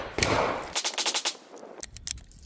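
Sig Sauer P320 M18 pistol fired in quick bursts at a range, a rapid string of sharp cracks close by, with other shooters' gunshots nearby.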